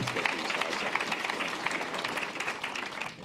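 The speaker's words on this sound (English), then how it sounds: "Big round of applause for Graham." Conference audience at a fintech event applauding a speaker, a close, continuous spread of clapping from a sizeable crowd that tapers off near the end.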